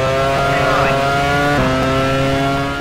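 Racing car engines from F1 Challenge 99-02 in a 2002 Austrian Grand Prix session with a Toyota drone steadily at high pitch, one engine note shifting midway, loud and continuous beneath a speaking voice.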